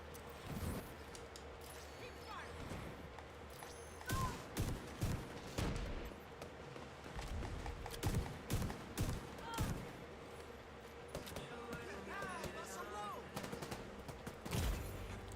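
Gunfire in the video game The Division 2, with shotguns and explosive builds in PvE: sharp shots and short bursts at moderate volume, spread across the clip, under a player talking over game sounds.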